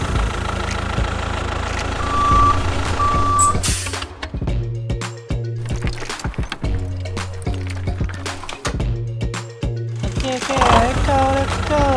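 Small DIY mini tractor engine chugging and knocking in uneven bursts while towing a car, with music and a toy-like voiceover playing over it.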